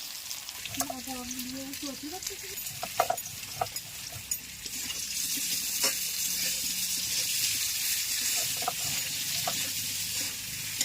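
Turmeric-coated potatoes fry in a pan with a steady, bright sizzle that grows fuller over time, with occasional stirring clicks; a voice talks briefly near the start.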